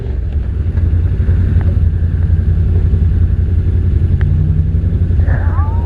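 A 2021 Yamaha Wolverine RMAX 1000 side-by-side in sport mode drones loudly and steadily under acceleration, engine rumble dominating throughout with some wind buffeting.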